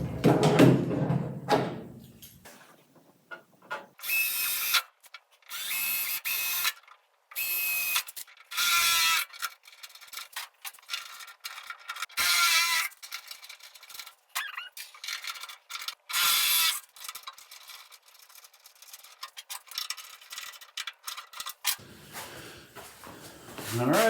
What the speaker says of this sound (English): That's a 5/32 Allen wrench.